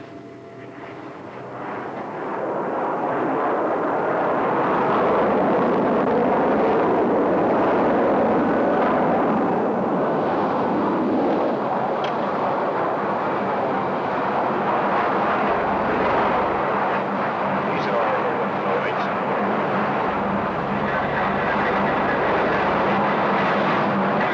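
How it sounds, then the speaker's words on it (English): Boeing 727 jetliner engines roar loudly and steadily, a broad rushing thunder that builds over the first seconds and holds, close and powerful. "This is a regular 727 jetliner."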